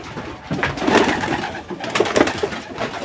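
A pet pigeon coos close by in a few soft, throaty bursts that swell and fade in uneven rhythm, alone without speech.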